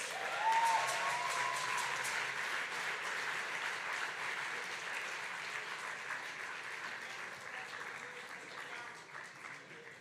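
A crowd applauds for Spike at a Malcolm X Day birthday tribute of words and music, sustained dense clapping that holds steady for about ten seconds before slowly thinning.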